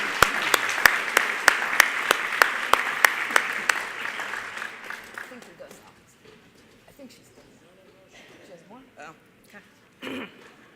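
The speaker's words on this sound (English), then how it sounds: "Let's give these students a round of applause." Applause for students at a university engineering awards banquet starts as scattered claps, swells into a full round, then fades out, leaving quiet room noise and a brief murmur.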